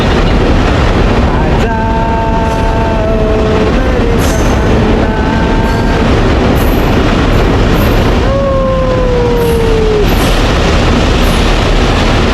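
A train horn sounds three times over a steady, loud rush of wind and ambient noise at a railway bridge near KP Waterfalls in Khopoli, Maharashtra; the last blast is longer and falls in pitch.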